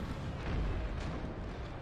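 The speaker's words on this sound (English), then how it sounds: "I'd feel pretty good with 8 cannons shooting canister at the enemy right next to me" Cannons fire canister shot in an American Civil War battle game, heard as a dense, muffled rumble of overlapping booms that rolls on steadily and fairly faint.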